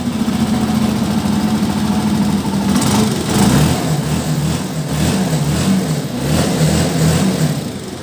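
A Honda TMX 125 motorcycle engine runs steadily up close, a low chugging single-cylinder idle with slight revs and knocking, continuous throughout.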